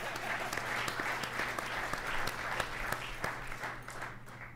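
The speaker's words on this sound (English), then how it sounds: "You can clap, it's all right." Steady applause from an audience at a men's basketball press conference welcoming a new head coach, sustained clapping at moderate level with a low hum beneath, tapering slightly at the end.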